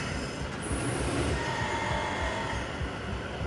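A droning, harsh industrial alarm fills the space in the video game Doom, a continuous grinding wash of noise with a faint high whine, loud and unbroken.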